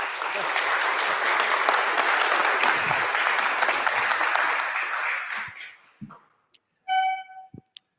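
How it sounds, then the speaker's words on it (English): A frontend conference audience gives a loud, dense round of applause that holds steady for about five seconds, then fades out, followed by a couple of isolated claps and a short electronic tone. "Round of applause"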